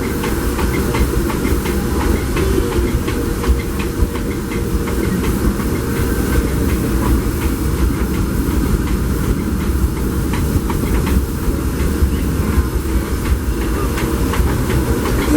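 A Disneyland Railroad steam train rumbles steadily along the tracks with constant hissing and a faint rhythmic clatter, loud and continuous with no voices.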